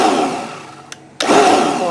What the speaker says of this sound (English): I have to watch this blender because this thing really blends